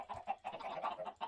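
Chickens in the Paleo Topia video game cluck in a quick, soft series of short clucks, quiet and close with no talk over them.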